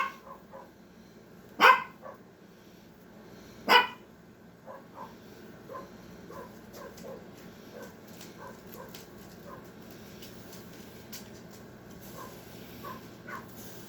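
A dog barks outside behind a house, a few sharp loud barks early on, then softer, more distant yips and barks scattered through the rest, with no talk.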